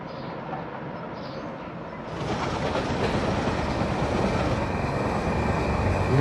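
WDM3D diesel locomotive running in Indian Train Game, a steady rail roar and rumble that swells louder after a couple of seconds and keeps rolling on.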